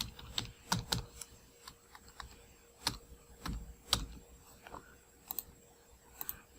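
Quiet, close keystrokes tapped on a computer keyboard while entering a password, in short irregular bursts of clicks with pauses between them and no talk.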